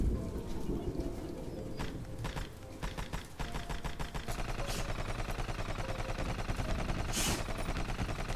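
Machine pistol fire in the Rusted Moss video game: a fast, steady, rattling burst of close shots that keeps going for several seconds over other game sounds.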